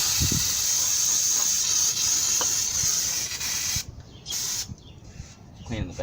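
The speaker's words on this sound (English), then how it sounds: "that's why you want to clean your rotor off with brake parts cleaner" Aerosol brake parts cleaner sprayed onto a brake rotor during a front brake job on a 1994 Ford Ranger, a loud continuous hiss that cuts off abruptly, then returns in a few shorter bursts.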